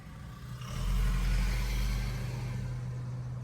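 A nearby car engine swells as a vehicle turns around close by, a steady low rumble that builds over a second and then holds, with no talk.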